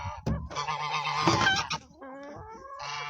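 Several geese honk loudly and insistently at close range, demanding food, their harsh calls overlapping in a noisy, continuous chorus.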